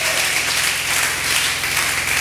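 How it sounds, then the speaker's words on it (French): A church congregation at a sermon gives a loud burst of applause and acclamation, a dense and steady wash of clapping with a low hum underneath for a couple of seconds. "J'aimerais que tu me donnes une très bonne acclamation."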